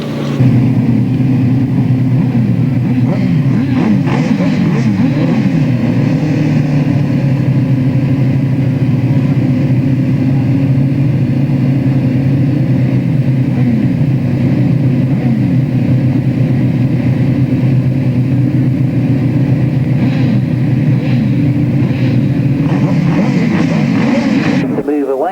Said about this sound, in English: The revs will start to get noisier.